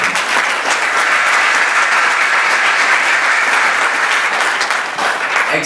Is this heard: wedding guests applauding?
yes